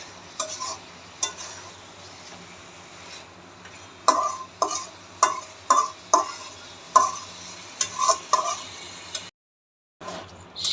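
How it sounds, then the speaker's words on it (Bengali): Fried katla fish being sautéed with turmeric and chili powder in a pan: quiet sizzling under a series of sharp spatula taps and scrapes, roughly a dozen in irregular rhythm, with a brief silent gap near the end. "ভাজা মাছগুলো দিয়ে একটু কষায়"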